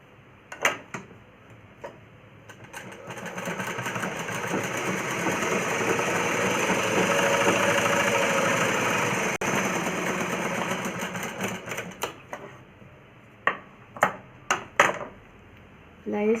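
A sewing machine stitches a plain blouse in a long, steady whirring run that swells and fades, framed by sharp clicks and taps from handling the fabric and machine, without any talk.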